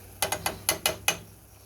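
Six quick spritzes of canola oil spray land on chicken breasts cooking in a pan. They come close and crisp in an uneven rhythm over under two seconds, with no talking.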